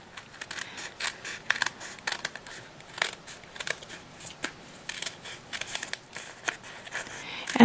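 Rotary or scissor cuts slicing through a row of pieced bargello quilt fabric, a run of crisp, irregular snips and rustles close by, with a person talking between the cuts.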